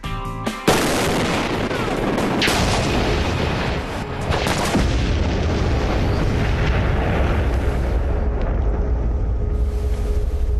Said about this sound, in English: Low-speed explosives like dynamite and AMFO, they have a much throatier thud.